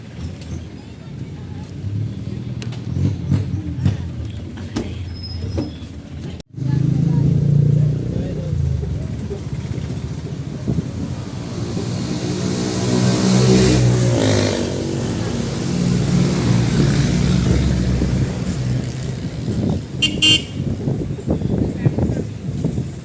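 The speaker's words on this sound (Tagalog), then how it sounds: "Nakasakay na kami sa jeep." A Filipino jeepney's engine rumbles steadily during a ride toward Novaliches town, with a sharp cut partway through and then a louder, rising drone that swells mid-ride. Voices talk intermittently over the engine and road noise.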